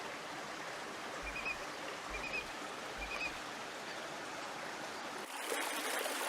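A mountain spring-fed stream near the headwaters of the Jordan River flows in a steady, soft wash of water, faint and continuous, with a few brief high chirps on top and a slight rise in rushing near the end.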